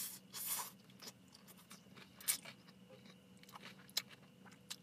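Quiet, close crunching and chewing of onions from an orange chicken dish, several irregular crisp bites over a few seconds with no talk.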